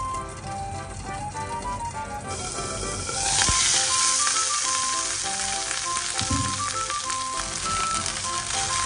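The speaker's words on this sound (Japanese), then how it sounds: "今度は蓋をして3分蒸し焼きにします" Teriyaki chicken steam-fries in a covered pan with a steady, busy sizzle; partway through the hiss swells louder and brighter, with a few small clicks and clatters close by.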